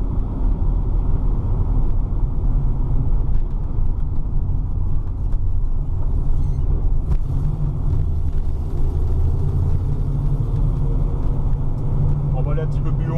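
A 1968 Chevrolet Camaro's engine drones as the car drives along a road, a loud, steady low rumble heard from inside the car and holding constant throughout, with a voice talking over it.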